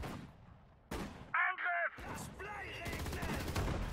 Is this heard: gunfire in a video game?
yes